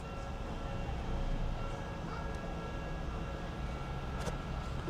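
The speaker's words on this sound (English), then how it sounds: "we just missed the next train coming in behind me." Train pulling into a station in Japan, a steady loud rumble of wheels and carriages rolling close by with a faint high squeal, continuous throughout without talk.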